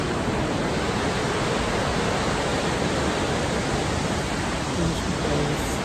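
Steady broadband roar of Burney Falls waterfall, loud and continuous throughout with no breaks, evenly masking any other sound.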